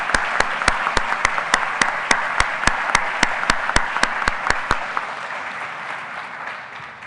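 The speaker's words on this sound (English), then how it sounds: "So a great round of applause as well for them" Audience applause at the RSS 2022 robotics conference awards and town hall, honoring the local arrangement co-chairs: a broad wash of clapping with one loud, steady nearby clapper, fading after about five seconds.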